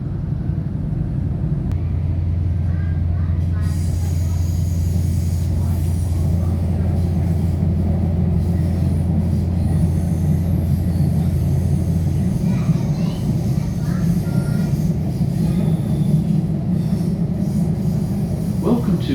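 A train climbing a hill railway line towards Belair rumbles steadily and loudly throughout, with a sustained low drone through most of its length and no voices.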